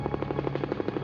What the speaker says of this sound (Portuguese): Fernandes vai direto ao local do acidente em um helicóptero da Marinha